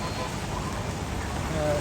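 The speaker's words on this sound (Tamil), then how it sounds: "இப்போ தான் மழை பெய்யுது" Rain pours steadily onto a flooded town street in Jaffna, a constant dense hiss of falling water with no breaks over the short stretch.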